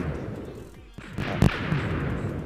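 A cannon fires in a video game with a single loud, sharp boom, followed by a rumbling tail under a steady background hum.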